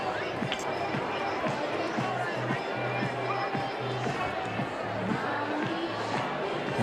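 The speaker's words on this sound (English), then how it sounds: "They're clapping to Baby Shark as it plays over the PA system here" A student section at a high school football game claps along in rhythm to Baby Shark blaring over the stadium PA, the steady beat sitting under crowd noise and a commentator's voice.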